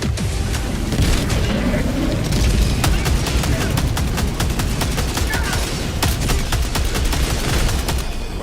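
Dense, continuous bursts of gunfire and booming blasts pound throughout a Helldivers 2 battle, with rapid crackling shots layered over rumbling explosions from an airstrike, loud and relentless, while voices speak underneath.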